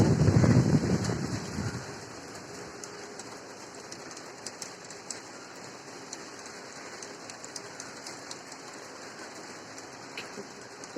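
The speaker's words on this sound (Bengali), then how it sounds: "বৃষ্টিটা কিন্তু অত জোরে আসেনি" Light rain patters steadily and softly, a faint even hiss with scattered drops, after a brief louder rumble at the very start.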